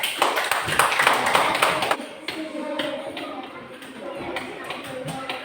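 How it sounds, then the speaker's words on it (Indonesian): A group of children in a lesson claps for their classmates in group 2, a burst of loose, uneven clapping that thins into scattered taps while people talk. "Sekali lagi tepuk tangan untuk mereka"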